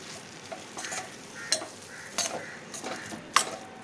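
Soya granules curry with onions stirred in a pan, soft sizzling under a handful of sharp spoon scrapes and clinks against the metal, close and fairly quiet.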